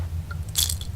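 A single crunchy bite into beef jerky in the video game Penumbra: Overture, one short close crunch heard alone.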